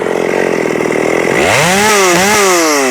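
A ported Shindaiwa 757 chainsaw runs during break-in, loud and close. It holds a steady high idle, then revs sharply upward and wavers between pitches with no talking.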